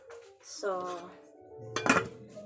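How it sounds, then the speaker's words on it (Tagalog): Plates and dishes clink and scrape softly while being washed by hand, a few faint knocks and a brief ringing tone, with a brighter clatter of crockery near the end of the short stretch. "Maghuhugas ako ng aming plato."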